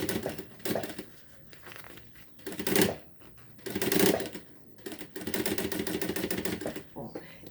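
Sewing machine stitching a zipper onto a half-moon pouch, running in several bursts of rapid mechanical whirring with pauses, close and fairly loud, with some fabric handling noise between runs.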